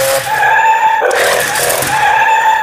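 A toy RC stunt car spins in rotation mode with a high, whining motor tone and gritty skidding of its tyres. The sound is loud and continuous for a few seconds, and no one talks.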